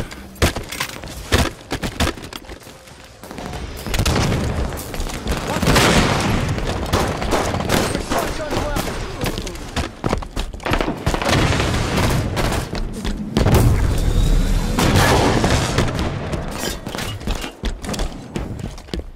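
Gunfire in the Halo 5 video game during a Big Team Battle Slayer match: bursts of shots and booming impacts come in dense waves, loud and close, with a game announcer's voice briefly in the mix.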